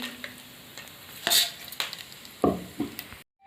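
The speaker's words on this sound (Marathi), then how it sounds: "आपली मेथी आता छान भाजून झाली, काढून घेऊ।" Fenugreek seeds dry roasting in a pan, with a quiet background and a few sharp stirring scrapes and rattles spaced irregularly before the sound abruptly stops.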